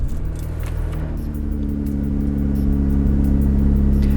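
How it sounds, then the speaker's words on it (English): A car engine runs after being started with the ignition key during a remote start and alarm installation, a loud, close, steady idle hum that swells slightly near the end. "Now I'm going to start the engine with the ignition key."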